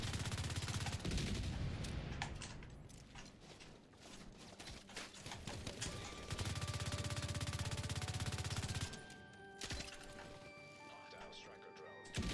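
Gunfire during a PvP firefight in The Division 2, with rapid shots and bursts that are loud and close for much of the clip and then ease off. Players talk over it.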